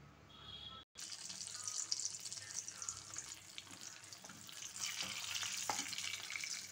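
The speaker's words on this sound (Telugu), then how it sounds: "ఇదే బాండ్లీలోనే మనం పచ్చడి కూడా పోపు వేయించేసుకుందాము" Oil sizzles and crackles steadily in a kadai as tempering for chutney fries, a continuous bright frying hiss with small pops and stirring scrapes, near and fairly loud after a brief cut at the start.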